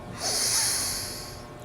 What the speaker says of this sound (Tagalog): Hingang malalim po.